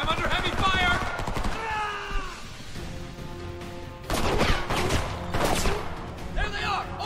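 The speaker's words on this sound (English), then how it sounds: "I'm under heavy fire!" Heavy gunfire in the Homefront war shooter, rapid volleys layered with tonal game effects and music-like drones, swelling into louder bursts near the middle and end, with a voice talking over parts of it.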